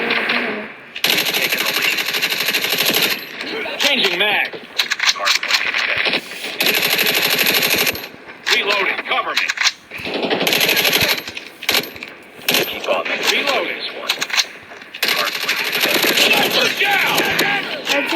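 Rapid automatic gunfire from a ranked Call of Duty match rattles loudly in long bursts separated by brief pauses, with a voice talking intermittently over the shooting.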